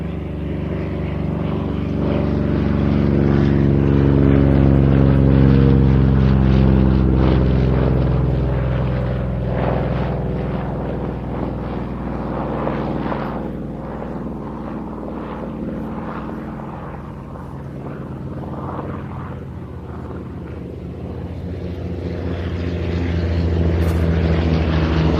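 Propeller aircraft drone overhead at an evening air display at Duxford, their deep engine hum swelling as they pass, fading slightly, then building again; a loud, sustained rumble with no speech.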